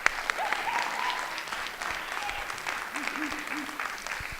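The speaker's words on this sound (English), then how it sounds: "Please give him a round of applause." Audience applause at a closing sermon and Q&A, a continuous patter of clapping at moderate level, with brief cheers and whoops rising over it.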